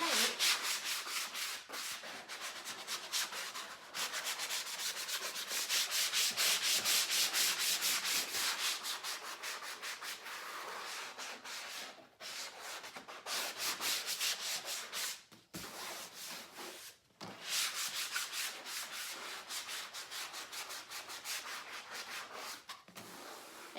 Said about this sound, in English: So I'm just gonna come in and sand the paint.